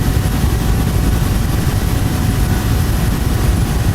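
UH-1 Huey helicopter in the DCS flight simulator, a loud, constant, dense rotor and turbine roar with steady rumbling texture, heard alone with no talk.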